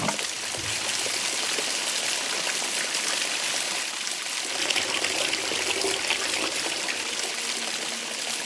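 Water pours steadily in a Spirits of Mystery puzzle adventure game, a continuous close trickling stream that runs unbroken for several seconds with no talk over it.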